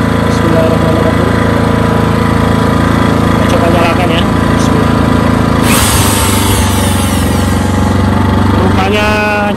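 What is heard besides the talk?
Hyundai HDG 2880 generator engine running with electric drill load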